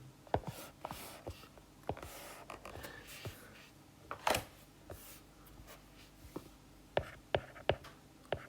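A pen drawing a triangle by hand on a surface during a calculus and coordinate geometry lesson, with quiet scratchy strokes and sharp taps spread irregularly over the span, close and soft.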